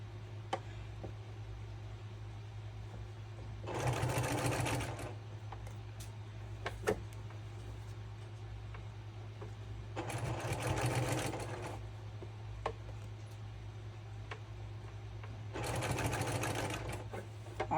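Sewing machine stitching a double wedding ring quilt, running in three short bursts of a second or so each, separated by pauses over a steady low hum and occasional small clicks, close up with no talking.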